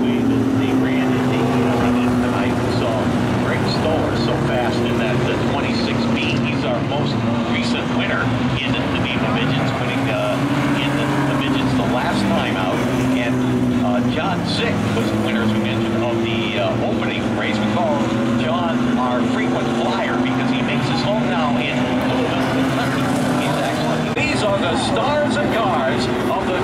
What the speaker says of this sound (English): cars of the Northeastern Midget Association here for the Super Saturday night